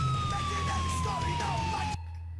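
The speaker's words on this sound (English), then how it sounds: "Turn off the siren." A steady, slowly falling police siren tone in the video game GTA IV, loud and close, that cuts off abruptly near the end, leaving a low hum.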